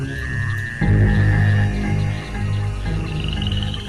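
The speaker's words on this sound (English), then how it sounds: "To attract a female, the Mexican white-lipped frog makes a series of chirping sounds" A Mexican white-lipped frog calling at night in the jungle, a close tonal chirp over a dense background chorus of other frogs croaking and droning.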